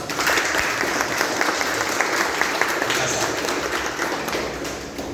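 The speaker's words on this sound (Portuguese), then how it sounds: "Vamos recebê-los com uma salva de palmas?" A congregation at a baptism service in a Seventh-day Adventist church in Macambira, Sergipe, Brazil claps together in dense, sustained applause that holds steady from start to finish, with faint voices mixed into the crowd noise.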